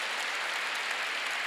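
Church congregation applause, a steady, even wash of many hands clapping at a Korean church service.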